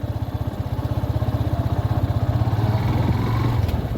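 A motorcycle engine putters with a steady, pulsing low thrum during a family ride on a road in Nepal, close and continuous with a faint wind rush over it.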